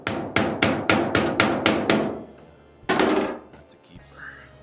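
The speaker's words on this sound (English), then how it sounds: "it's gonna need a little bump with the hammer right there" A hammer strikes a door latch on a 1938 custom Cadillac: a rapid run of about eight sharp metallic taps, then one more hit after a pause, close and loud, with brief quiet speech.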